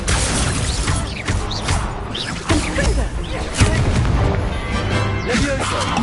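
Accio summoning spell cast in Hogwarts Legacy, a burst of crackling, booming magical impacts and whooshes layered over busy game action, loud and close throughout with several sharp hits.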